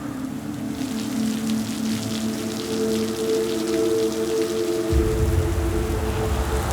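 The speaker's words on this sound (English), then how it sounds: "The rains keep coming." Rain falling steadily in Singapore during a cold, cloudy spell, a dense patter at moderate volume, with a low humming tone underneath and a deeper rumble coming in toward the end.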